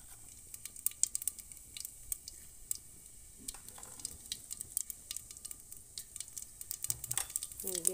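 Cumin seeds dropped into hot oil, a crackling, spattering sizzle with rapid irregular pops, fairly close, with brief scraping near the end and no talking.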